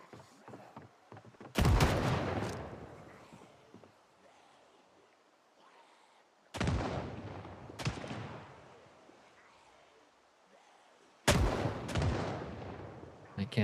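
Gunshots from the zombie survival video game Project Zomboid ring out three times at irregular intervals, each a sudden loud boom with a long decaying rumble, with quiet game ambience between them.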